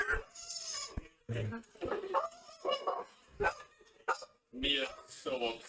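Someone's dog barks in short bursts from a replayed recording, interleaved with people talking over it, the barks sharp and moderately loud.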